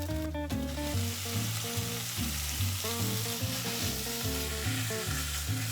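Beef stir-frying in green chili paste for a Thai green curry, a loud, close, continuous sizzle with rhythmic stirring scrapes of a utensil against the pan.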